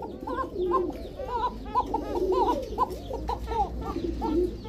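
Arabian pigeons coo repeatedly and close by, several birds overlapping in rhythmic throaty calls over a low background hum.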